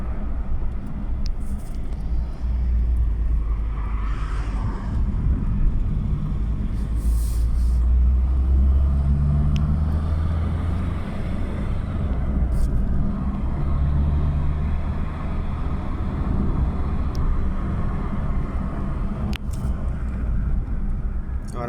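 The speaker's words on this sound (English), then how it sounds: "I'm test driving to see if she's gonna cut out" A Vauxhall Corsa drives in third gear on a test drive, heard from inside the cabin as a steady low engine and road rumble with no clear change in pace.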